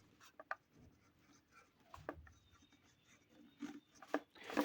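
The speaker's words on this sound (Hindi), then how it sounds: "ये हम लिखेंगे, यहाँ पे लिखेंगे" Someone writes on a board during a maths lesson on similar triangles. Soft, irregular scratches and taps of the strokes come in faint, quiet bursts with small pauses between them.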